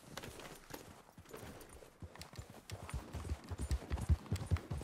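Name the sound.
horse galloping in Red Dead Redemption II video game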